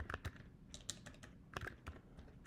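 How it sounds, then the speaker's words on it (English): Close, irregular clicking of laptop keys being typed, a quick scattered rhythm of light taps with no talking. "Hopefully the keyboard sounds aren't too annoying."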